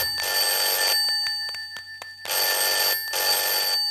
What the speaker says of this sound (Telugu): ఫోన్ రింగ్ అవుతూనే ఉంది